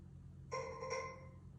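A Google Home smart speaker sounds a short two-part tonal chime, faint and indoors over a low hum, alerting to a Zigbee water leak sensor.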